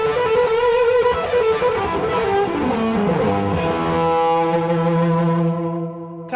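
Electric guitar played through a Marshall Category 5 amp, a beefed-up Super Lead, with a Gibson Les Paul: a distorted, singing lead phrase that bends down and ends on a sustained note, loud and clear, no voice.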